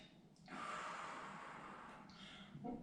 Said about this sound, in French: 6 grandes respirations